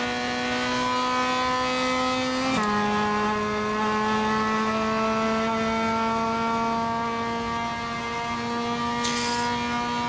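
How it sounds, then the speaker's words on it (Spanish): Race car engine held at high revs in Assetto Corsa, a South American touring car mod, a steady buzzing whine that drops in pitch once as the gear changes, loud and alone. "Como que se escucha poco el motor, como que estuviesen todos los válvulas, pistones ahí explotando dentro del auto."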